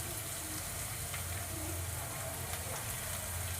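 Fenugreek leaves fry in a pan with a faint, steady sizzle and crackle that holds evenly throughout, with no voices.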